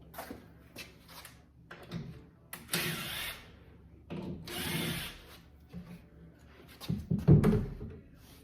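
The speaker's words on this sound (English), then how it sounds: "Now we'll just get some screws out of the wall" A power drill backs screws out of a garage wall in two sustained whirring bursts, with lighter tool handling and knocks in between.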